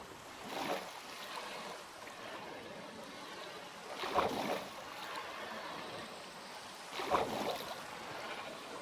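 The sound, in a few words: waterfall in the video game Minecraft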